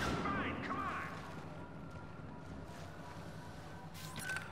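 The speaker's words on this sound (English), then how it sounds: "you can shoot through these windows" Gunfire from blasters shooting through windows in the Star Wars Battlefront video game, heard as loud bursts at the start and again near the end over a steady rumble of battle noise.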